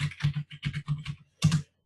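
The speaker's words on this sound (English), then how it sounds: "Let me just type." Bursts of computer keyboard typing, several quick clusters of key clacks with short pauses between them, close and clear with no talking.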